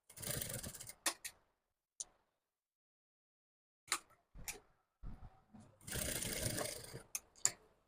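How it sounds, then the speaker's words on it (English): A sewing machine top stitches the lining of a tulip sleeve in short, whirring bursts broken by quiet pauses and a few sharp clicks, with no talking. "So after that, I'll top stitch on the lining so it can lay well."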